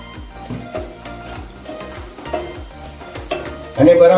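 Spices being stirred into a curd and onion sabzi in a pan, a spoon scraping and clinking in repeated strokes with a light sizzle underneath, growing louder near the end.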